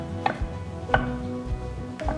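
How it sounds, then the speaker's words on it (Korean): A kitchen knife julienning shiitake mushrooms on a cutting board, with a few sharp separate chops spaced roughly half a second apart, close and clear, with no talking. "이제 이렇게 해서 표고버섯 다 채 썰었어요"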